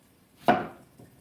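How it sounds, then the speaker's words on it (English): A knife slices through a white onion in a single firm chop against a board, close and crisp, followed by a faint second knock. "Now, I'll start by cutting my next onion."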